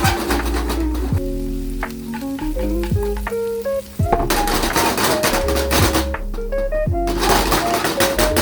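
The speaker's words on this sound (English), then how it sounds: "Heat the another pan, add your veggies and saute it oilly." Vegetables sauté in oil in a hot pan for a creamy white sauce pasta, a loud continuous sizzle with stirring clatter and bright tonal clinks layered throughout.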